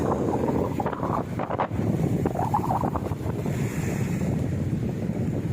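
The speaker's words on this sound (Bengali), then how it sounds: "ঢেউ কীরকম উঠছে দেখুন বাঁধের ধারে আছড়ে পড়ছে ঢেউগুলো" Storm-swollen Rupnarayan river at Tamluk during Cyclone Remal: a continuous rush of waves breaking against the embankment, buffeted by loud gusting wind roaring across the microphone.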